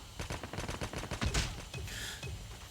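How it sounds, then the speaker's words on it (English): Gunfire and a car explosion in Call of Duty: Mobile: rapid bursts of shots followed by a loud blast near the middle, then a fading roar with scattered pops. "That car explosion was nice."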